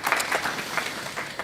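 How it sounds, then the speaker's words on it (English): Conference audience at a high-level investment roadshow in Cape Town applauding, a brief steady round of clapping from a moderate crowd. "Please, another round of applause."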